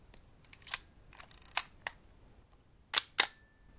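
Several crisp mechanical shutter clicks from a K-mount film SLR with a metal shutter, fired one at a time in a quiet room with short pauses between, the last two close together.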